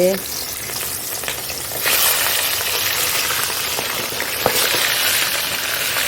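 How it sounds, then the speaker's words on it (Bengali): A fish head drops into hot oil and fries with a loud, dense sizzle and crackle that swells after a moment and continues steadily, with an occasional sharp pop. "তেলটা গরম হয়ে গেছে মাছের মাথাটা দিয়ে দিচ্ছি ভাজা করতে"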